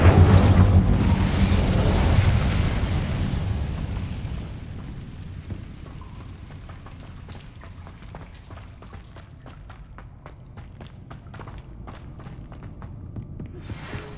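The Incendio fire spell is cast in Hogwarts Legacy, a loud rushing whoosh of flame that rumbles at the start and fades over several seconds into a quieter crackling tail.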